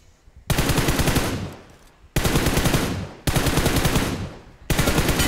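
Automatic gunfire in a shooter video game: four loud, sustained bursts of rapid shots, each cutting in abruptly and trailing off before the next, with no talking.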